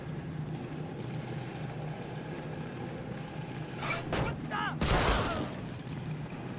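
Gunfire from a PlayStation 2 shooter game, a few bursts of shots cracking out over a steady game background before the loudest volley near the end.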